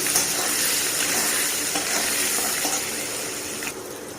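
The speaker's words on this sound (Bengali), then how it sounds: "এখন আলুটাকে একটু ভেজে নিই।" Potato pieces seasoned with turmeric and salt fry in a pan, giving a dense, even hiss that holds steady and eases slightly toward the end.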